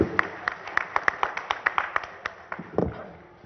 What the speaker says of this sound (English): Let's have a round of applause for the last session.